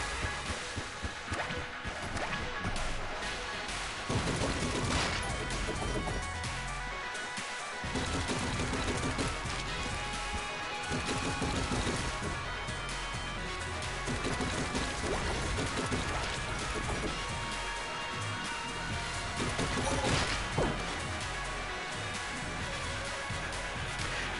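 Black hole gun firing in the video game Enter the Gungeon, a dense stream of crashing, crackling shots and impacts running nonstop for the whole stretch at fairly low level.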